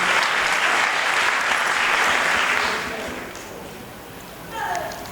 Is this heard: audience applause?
yes